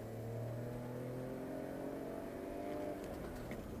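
BMW X5 engine wound out hard under acceleration during a high-speed road test, a faint, steady mid-pitched drone with a gradually climbing engine note, heard from inside the cabin.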